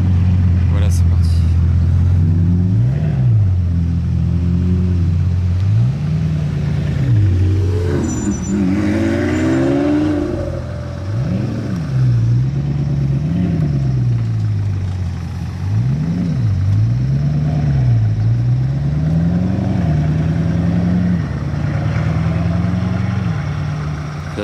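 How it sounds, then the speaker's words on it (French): Bugatti Divo and Chiron supercar engines rev and accelerate repeatedly in a convoy, rising and falling in pitch, the Chiron quieter than the Divo, with someone talking over the roaring motors throughout. "La Chiron fait quand même moins de bruit que la Divo"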